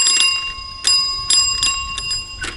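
A bright metallic bell rings in a series of quick, close strikes, each tone ringing on between hits.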